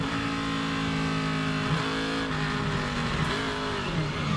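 From onboard, a Geico Chevy NASCAR Busch Series race car at Kansas holds a loud, steady engine drone as the throttle opens and the wheels spin, pitch wavering slightly up and down throughout, no voices.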